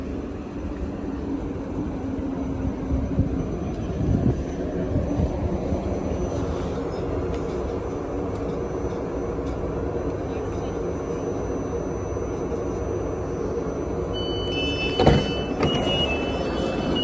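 A Class 458 electric train at a busy London station: steady loud rumble and hum of the train running throughout, with a brief clank near the end and talk over it.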